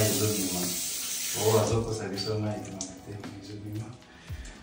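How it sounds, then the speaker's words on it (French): Tap water running in a bathroom sink as hands are washed under it, a steady hiss with some splashing, while a person talks over it. "Je me lave mes mains ici."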